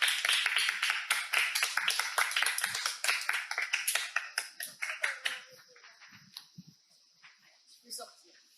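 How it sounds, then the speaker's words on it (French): An audience applauds a participant at the end of a horse-assisted constellation session, with a burst of many clapping hands that thins to scattered claps and fades, plus brief voices near the end. "On applaudit Lucie."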